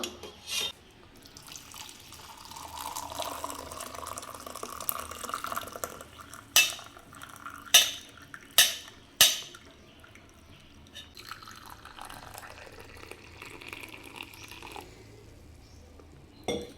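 A home herbal decoction of doddapatre and tulsi juice is strained after the stove is turned off, giving a gentle trickle and drip of liquid with a handful of crisp metallic clinks from the vessels. No voices.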